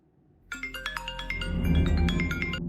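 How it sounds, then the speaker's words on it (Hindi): A phone ringtone plays a bright, rapid melodic chime of repeated tones, fairly close and clear, with no talking over it. "किसका फोन है?"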